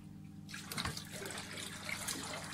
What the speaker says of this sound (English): Siphon a bit of water into the box.